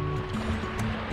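Steady wash of small waves lapping at the water's edge at Milford Sound, a paddleboarding spot by a gravel car park; a continuous, fairly close rush of surf with no talking.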